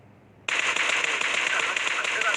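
Sudden burst of rapid gunfire in PUBG Mobile during a competitive esports match, cutting in after a short quiet moment and continuing as a steady, loud rattling stream.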